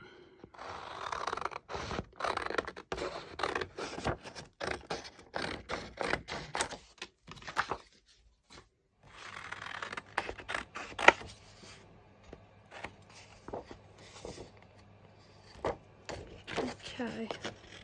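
A crafting die-cutting machine working through side panels for a small memory box, with steady mechanical clicking and ratcheting close by, a short pause midway, then more clattering cranking.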